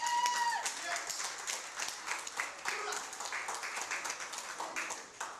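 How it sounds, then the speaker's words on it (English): Audience at a youth symposium applauds, a steady dense wash of many hands clapping, fairly faint and distant, swelling slightly at the start then holding evenly. "So give her another round of applause, please."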